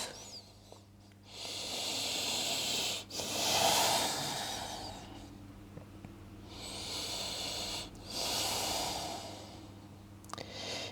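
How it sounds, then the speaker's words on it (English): Slow, deep breaths in a yoga forward fold, each long hissing inhale and exhale drawn out over several seconds, soft and close, with a steady low hum underneath and no talking. "For 8 slow deep breaths."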